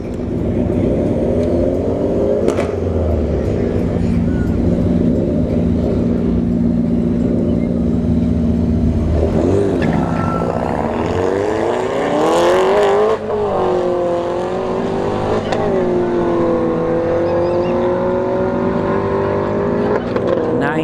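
A Mini Cooper makes a solo drag-racing pass at a dragstrip, its engine loud and close as it builds through rising revs and gear changes, then carries on in a sustained high drone as it pulls away.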